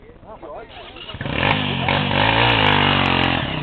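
A trail motorcycle climbs a dirt hill, its engine surging from a rough idle into a loud, sustained revving roar that holds steady close by, with voices briefly audible at the start.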